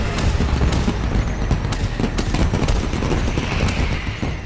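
Fireworks and firecrackers burst in a dense, continuous barrage during Diwali celebrations in a city in Uttar Pradesh, with sharp cracks and rolling booms overlapping loudly without pause.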